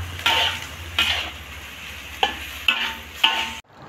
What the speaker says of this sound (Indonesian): Biar mendidih dulu.